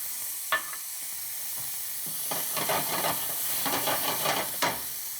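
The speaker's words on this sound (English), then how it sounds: "In the same pan where we cook the scaloppini, we go first with some chopped onions." Chopped onions sizzling in the pan just used to cook pork scaloppini: a soft, steady hiss with brief crackling bursts and spatula clicks, fairly quiet and alone.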